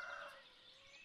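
Farm animal calls from the Ostriv village-building game, with a turkey-like gobbling call standing out, faint and brief, over a soft ambient bed; chickens, horses, pigs and cows fill the surrounding farmyard.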